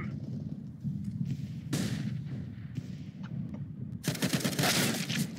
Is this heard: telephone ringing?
no